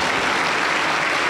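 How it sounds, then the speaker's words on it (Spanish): A congregation at a Pentecostal church in Junín, Peru applauds, a dense, steady roar of many hands clapping together, loud and continuous with no talk over it. "Aplauso para el Señor Jesús."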